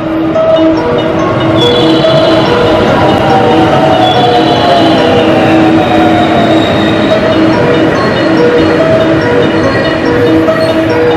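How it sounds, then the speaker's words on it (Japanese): A six-car local JR Biwako Line train bound for Maibara pulls into the platform at Otsu Station, a loud, steady rumble of wheels and motors with faint metallic squealing tones running throughout. "2番乗り場に電車が参ります。"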